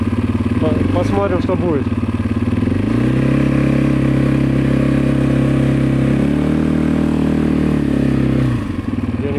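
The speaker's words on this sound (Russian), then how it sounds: "Все утихло и квадрик завелся. Поеду назад" Quad bike engine running loud and close with steady harmonic drone, revving up around the middle and easing off near the end, with brief clatter and someone speaking at the start.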